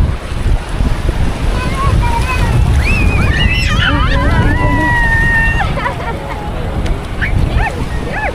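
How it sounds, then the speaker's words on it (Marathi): Sea waves wash in at Kelve beach in Palghar as a steady, close rush of surf and wind, with people talking and calling out over the water throughout. "लाट आली का उडी मार"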